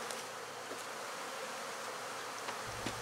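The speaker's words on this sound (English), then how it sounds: "Coco hive is very much abuzz." Honey bees in a busy hive make a dense, steady buzzing hum throughout, close and continuous, with faint scattered clicks.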